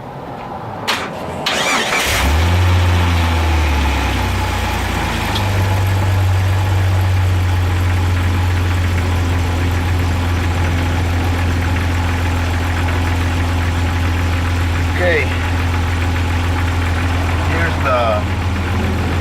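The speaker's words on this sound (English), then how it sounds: "We'll start the engine." A car engine cranks and catches after a couple of seconds, then settles into a steady, loud idle that continues close by.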